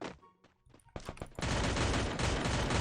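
Rapid gunfire in the video game Free Fire MAX: a few sharp single shots, then a loud, sustained fusillade of automatic fire close up.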